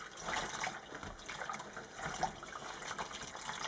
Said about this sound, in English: We're just going to gently stir that really hot water through the fabric, and the wax is already starting to come out.